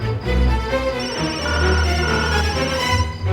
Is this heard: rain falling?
no